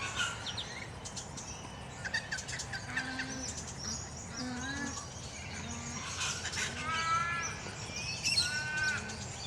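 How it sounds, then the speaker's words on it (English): Ibises in Perth, Western Australia, give harsh, croaking honks in irregular bursts, some close and some farther off, over a faint outdoor background with other birds. "The ibis are making a bit of a noise over on my left there"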